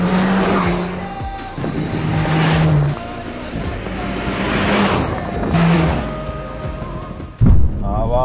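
Car launched hard from a standstill with launch control disabled, engine roaring through repeated rising revs with gear changes and some tire squeal, loud and close, with a voice speaking over parts of it.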